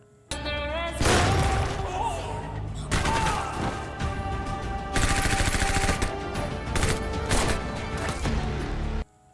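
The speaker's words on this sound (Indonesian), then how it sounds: "Akibatnya Junior terkena tembakan" Loud, sustained gunfire in an action film scene, a dense run of rapid shots with crashing and shattering impacts, continuous for several seconds without speech.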